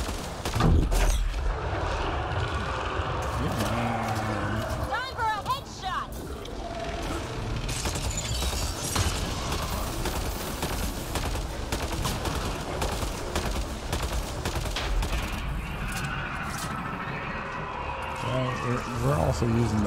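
Bursts of Pathfinder assault rifle fire in Mass Effect Andromeda on Kadara crackle through a busy firefight, sustained and loud throughout. A voice talks over the shooting and other mechanical combat effects.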